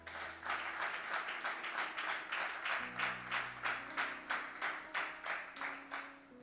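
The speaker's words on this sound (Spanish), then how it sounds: "Un aplauso." A church congregation claps in a steady, synchronized rhythm, about three beats a second, with sustained music or singing underneath throughout.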